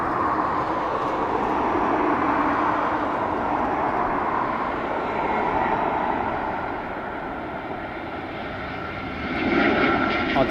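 Jet engine noise from an Aer Lingus Airbus A320 at Dublin Airport, a steady broad roar that dips slightly and then swells again near the end.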